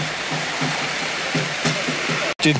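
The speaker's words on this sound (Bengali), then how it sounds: "বৃষ্টি তো থামলোই না সারাদিন" Continuous rain pours down steadily on a village Diwali day, a dense, even hiss with faint voices in the background.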